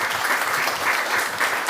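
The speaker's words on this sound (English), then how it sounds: "Give Marisol a round of applause." A crowd at a community forum applauds, a close, steady, continuous patter of many hands clapping with no voices over it.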